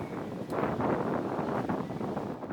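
Strong headwind buffets the microphone on an open disc golf course, a loud continuous roar with gusty surges and no talking.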